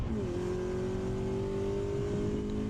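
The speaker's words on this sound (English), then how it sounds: "I shift to third, and then I shift back down into second right here at the apex." FRS/BRZ/86 race car on track at Mission Raceway, a loud in-car engine note that drops as a gear is shifted and then holds a steady sustained drone throughout.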